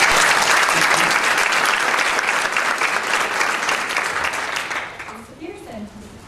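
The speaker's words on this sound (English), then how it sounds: "So, round of applause." A school district meeting audience applauding volunteers and principals, broad sustained clapping that gradually tapers off, with a voice starting to speak as it dies away.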